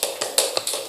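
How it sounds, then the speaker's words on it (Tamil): A few sparse hand claps ring out in a quiet room at a religious discourse, irregular sharp taps spaced apart rather than full applause. "இதுக்கு ஒரு கைத்தட்டல் போடலாம்."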